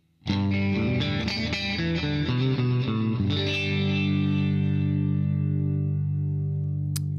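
A clean Fender Telecaster electric guitar through a Hughes & Kettner Coreblade amp simulation plays a few bright, twangy chords and notes, then lets a final chord ring out and sustain on its own.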